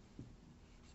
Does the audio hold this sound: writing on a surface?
yes